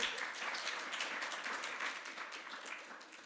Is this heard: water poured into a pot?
no